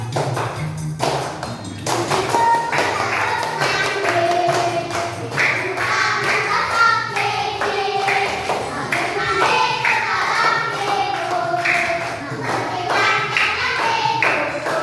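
Children in an elementary school classroom clap their hands in a steady beat while singing a wake-up song together, loud and close throughout.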